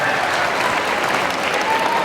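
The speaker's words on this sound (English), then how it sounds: "Have a round of applause." Dense, sustained clapping from an audience at a DUI presentation, loud and even throughout with no pauses.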